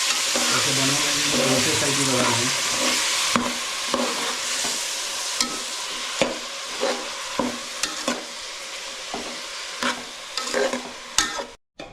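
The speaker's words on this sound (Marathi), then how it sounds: "फॅन खाली भात ठेवला आहे बघा आणि आता तो फिरवून घेतो आहे आम्ही" A spoon scrapes and stirs cooked rice in a pot for egg biryani, a steady close scraping and sizzling wash with irregular knocks against the pot and no talk.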